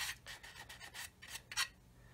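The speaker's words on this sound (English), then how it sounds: "So I've got an old sanding stick." Close, rhythmic rasping as an old sanding stick is rubbed back and forth across a 1/35 scale plastic model kit, about seven or eight strokes in quick succession.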